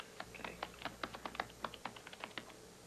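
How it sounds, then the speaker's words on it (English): Rapid keyboard typing from a computer terminal in a video game, a quick irregular run of light clicky keystrokes, close and fairly quiet, heard alone. "Try typing Bill Dyson to meet with Gordy."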